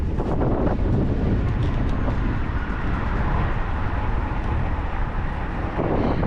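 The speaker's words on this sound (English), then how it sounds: "It's super windy." Strong, steady wind roars and buffets the microphone without pause while cycling, a dense rumbling rush that drowns out everything else.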